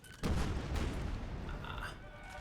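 An artillery piece fires in Napoleonic: Total War 3 multiplayer battle, a deep boom followed by a rumbling, sustained roar of battlefield noise with a faint distant crack.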